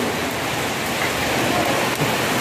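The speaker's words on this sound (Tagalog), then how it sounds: "Lakas-lakas ng ulan!" Dense, steady downpour of heavy overnight rain in Saudi Arabia hissing across surfaces, loud and close, with no voices or breaks.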